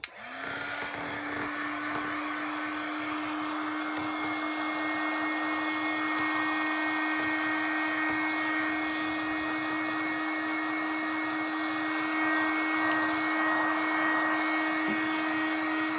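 A heat tool runs continuously while drying a wet watercolor card, giving a steady, loud whirring blow with a sustained tone, starting abruptly and holding for the whole stretch without speech.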